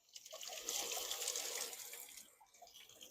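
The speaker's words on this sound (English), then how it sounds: "This is what the hose does when we turn it on." A garden hose is turned on and water gushes and hisses as a steady rushing spray, faint and a little distant, easing off slightly toward the end, with no voices.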